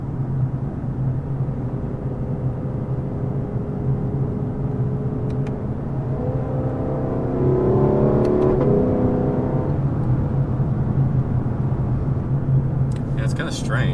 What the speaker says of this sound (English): even just cruising here, like, there's a lot of road noise.